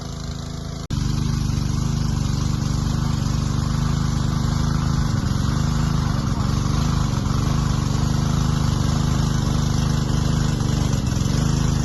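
An engine-driven water pump machine runs steadily in a farm field, lifting water from a ravine to paddy land; a loud, continuous low mechanical drone starts abruptly after a second and holds without pause to the end.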